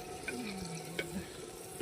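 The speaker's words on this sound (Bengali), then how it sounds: "হ্যাঁ, পেঁয়াজ ভাজা হচ্ছে এখন।" Onions for handi chicken fry in a pan with a soft, continuous sizzle at low volume, with a faint tonal hum and a couple of light utensil taps.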